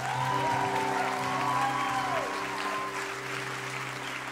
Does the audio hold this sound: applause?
yes